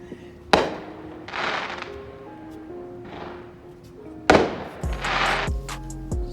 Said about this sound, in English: sorry for the fireworks.